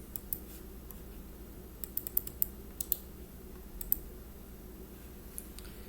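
Notes typed on a computer keyboard: sparse, light key clicks in small clusters, quiet and close, over a faint room hum, no speech.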